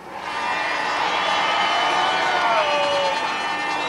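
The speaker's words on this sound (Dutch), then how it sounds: "Dames en heren, geef een geweldig applaus aan Jeroen Kramer." A studio audience on a 1993 Dutch television show cheers and whoops in a steady, dense crowd roar that holds loud throughout, with a few shouting voices rising above it.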